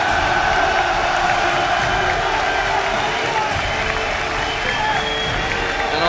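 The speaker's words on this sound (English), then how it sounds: "this crowd has been fantastic throughout this tournament" A large crowd at the League of Legends All-Stars final in Paris claps and cheers loudly and continuously, a dense roar of applause with whoops, with speech faintly mixed in.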